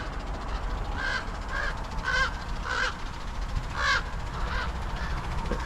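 Crows cawing as they fly overhead in a cemetery, several harsh calls in uneven bursts, fairly near, over a steady broadband outdoor rumble.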